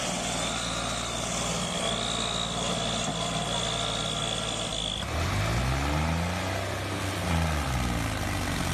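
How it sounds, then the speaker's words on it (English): An Arjun tractor engine labours steadily under heavy load while pulling an overloaded trailer in Punjab, a loud continuous drone that shifts into a deeper rumbling pulse partway through. "This driver's working hard, but the tractor is definitely working harder."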